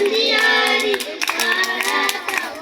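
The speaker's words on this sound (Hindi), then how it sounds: "जाओ ताली बजाओ" Children clap together at a village Independence Day celebration, a dense scatter of hand claps over a sustained tonal voice or singing, close and lively throughout.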